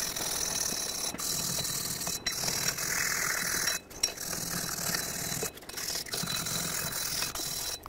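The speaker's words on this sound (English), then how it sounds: "I'm going to use a wire brush." Wire brush scrubbing the rear axle hub between the lug studs on a 1997-2003 Ford F-150, a steady close, harsh bristly rasp with brief breaks between strokes, no talking.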